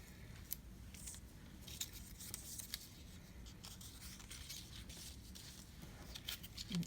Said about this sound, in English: we will be cutting the pieces down a little bit more